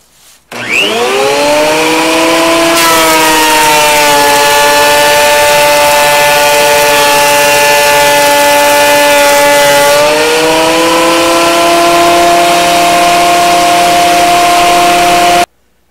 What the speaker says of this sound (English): So now we're going to run through the planer.